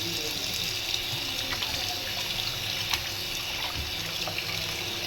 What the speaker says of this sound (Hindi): अच्छी तरह से एक दफ़ा मैं पानी डाल के इसे धो लूँगी।